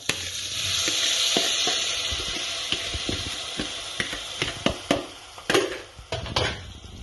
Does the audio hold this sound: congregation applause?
no